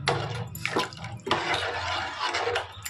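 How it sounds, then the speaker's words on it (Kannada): Water pours into a pot of rasam in a few gushing bursts, a loud close splashing stream that pauses briefly and resumes, made while cooking sprouted green gram bassaru. "ಸಾರು ಎಷ್ಟು ಗಟ್ಟಿ ಬೇಕೋ ಅಷ್ಟು ನೀರು ಹಾಕ್ತಾರೆ."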